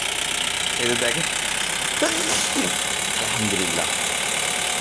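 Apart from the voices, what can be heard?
Mahindra Big Bolero pickup engine revving with accelerator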